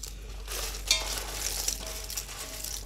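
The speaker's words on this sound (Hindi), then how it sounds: "अब मैं इसमें मिक्स करूँगी ये कटहल" Jackfruit pieces being mixed by hand with Tata salt for pickle, giving a soft, continuous rustling and stirring with a couple of light clicks, close and quiet over a few seconds.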